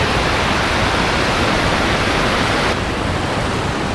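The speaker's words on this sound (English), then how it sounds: "The trailhead apparently starts at the top of the Housatonic River Falls in Falls Village, and wow, what an amazing sight to see." The Housatonic River Falls in Falls Village pours in a loud, unbroken rush of water heard up close, a dense roar with no voices over it, easing slightly partway through.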